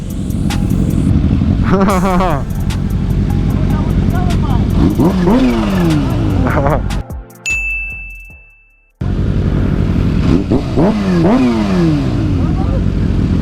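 A supercharged Kawasaki Ninja H2 on a city street revs hard and loudly, climbing and dropping through sweeping pitch runs. A brief quiet gap with a chime tone comes before the roaring resumes. Voices are heard faintly under the engine.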